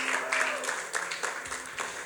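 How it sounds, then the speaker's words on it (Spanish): An audience at an Ekklesia Miami church gathering claps in a steady, dense wash of applause, with a voice talking over it throughout. "Un aplauso para mis modelos."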